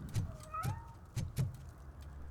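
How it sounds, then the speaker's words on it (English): A cat meows once in a video game set in Robocop: Rogue City, a short rising-falling call at low volume, with soft footstep-like thumps around it in an otherwise quiet scene. "But there's a kitty."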